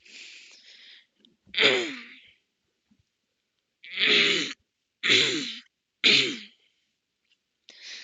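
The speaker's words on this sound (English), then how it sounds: "Sorry, I cough a lot, don't I?" A person coughs in several harsh, hoarse bursts, a drawn-out one first, then three close together, with short silent gaps between them.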